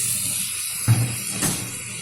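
Raw bele fish tipped into hot mustard oil: after a brief quieter moment, a sudden burst of sizzling breaks out and settles into a steady hiss, with no talking.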